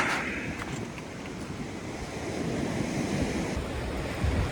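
Storm surf from a bomb cyclone at high tide pounds the shore in a continuous heavy roar, with gusting wind buffeting the microphone and no voices.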